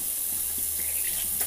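A tap runs steadily into a sink while someone washes their face, a constant close splashing hiss with a few small splatters.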